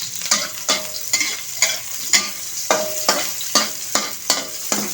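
Ginger and onion hitting hot oil in a pan for a Filipino clam soup, a loud sizzle broken by regular rhythmic scraping strokes of stirring, close and alone without voices.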